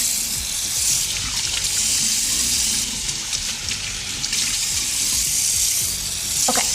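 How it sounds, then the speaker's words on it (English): Water splashes continuously at a bathroom sink while a face is washed, a loud steady rushing spray with small shifting splashes and brief handling sounds near the end. "I'm really washing my face for you guys."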